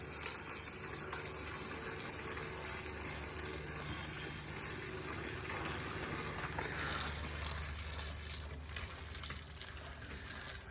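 A garden hose sprays water onto an outdoor air conditioner unit in a continuous, fairly loud hiss and patter of spray on metal fins that holds steady throughout.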